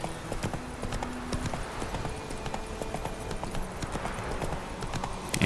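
Hooves clip-clop at a steady galloping rhythm from a horse in The Witcher 3 video game, with rapid repeated footfalls over a constant ambient bed and no speech.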